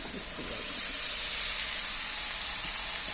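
Cabbage tipped into a hot pan of spiced chicken masala sets off a steady, loud sizzle and hiss of steam that holds evenly throughout, close up and with no talking.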